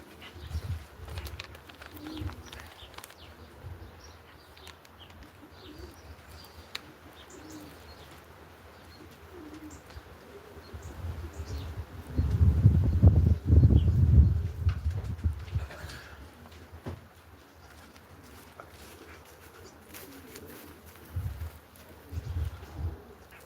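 Racing pigeons coo softly at a loft, low murmuring calls rising to a louder, denser burst of cooing midway before easing back to scattered coos and faint chirps.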